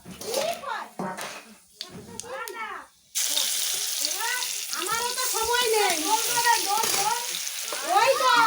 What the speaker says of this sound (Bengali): তেলেই নিম পাতাটা একদম পুরো কড়কড়ে করে ভেজে নেব